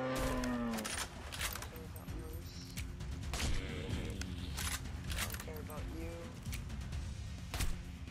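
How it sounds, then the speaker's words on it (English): A moose bellows in a deer-hunting video game, drawn-out and low, amid game sounds with a sharp shot-like crack, while a person talks over it. "That's a moose."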